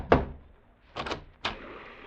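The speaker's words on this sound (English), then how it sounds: "Slaughter rapped on the door." Knocks on a door in a radio drama sound effect: a sharp single thump followed by two more raps after a pause, close and dry with no voices.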